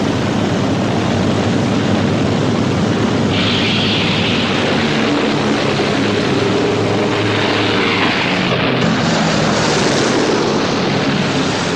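Several WWII bomber planes sit with engines running while waiting for takeoff, a dense, loud, continuous propeller-engine drone that fills the whole stretch with no talk.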